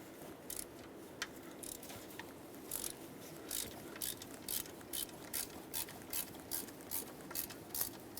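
A ratchet loosens the alternator bolts on a 2008-2010 Ford F250 Super Duty 5.4L V8, giving a soft, close series of regular clicking pawl bursts that repeat steadily, with no talking.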